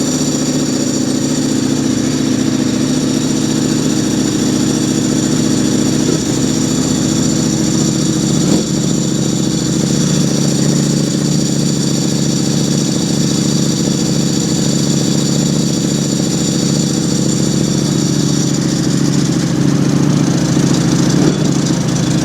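A motorcycle engine idles steadily inside a subscriber's garage, a constant close, loud mechanical drone with an even rumble and no noticeable rise or fall for the whole stretch.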